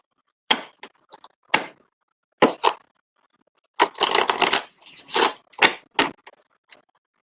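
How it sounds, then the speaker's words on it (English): Tarot cards riffle and snap in a series of quick, crisp bursts, close up, with a longer flurry of shuffling in the middle and short gaps between. "Nisa, I'm gonna shuffle them."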